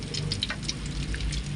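Water splashes into hot oil around a frying duck, giving a steady close sizzle and crackle with scattered droplet pops that runs continuously without pause.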